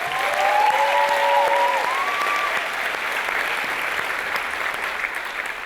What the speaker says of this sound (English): So I want to give them a round of applause just real quick.